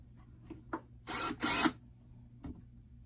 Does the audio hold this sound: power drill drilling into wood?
yes